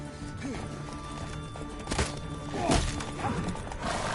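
Horses in The Witcher: Wild Hunt, with steady hoof clip-clop and a brief snort or whinny over a busy background of combat sounds and a few sharp hits.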